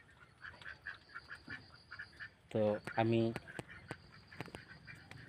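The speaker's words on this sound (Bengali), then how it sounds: "এখনও হাঁসগুলো ভেতরে যায়নি।" Ducks quack loudly in a short burst of several calls by a pond at evening, set against quiet ambience with faint chatter and a brief spoken phrase.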